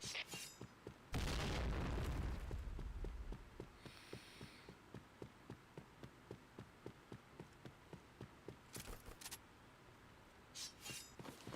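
A grenade explodes in a shooter video game, a single loud booming blast that rolls on for about two seconds before fading into a steady ticking pulse.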